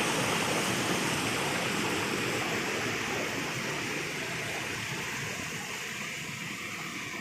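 Steady, loud rush of falling water at Orappankettu waterfall, Peechi, Thrissur, a dense continuous roar throughout with no voices.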